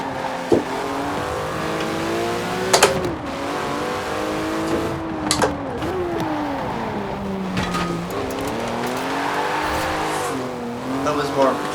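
A car in Forza Horizon 4 slides through a drift, its engine droning and rising in pitch while tires squeal in sharp bursts, loud and close throughout.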